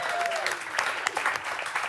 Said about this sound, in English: I feel like we should slow clap for Alex or something